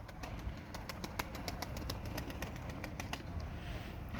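A pigeon arriving, with faint wing flaps and soft bird sounds heard distantly over a low rumbling background, quiet and brief.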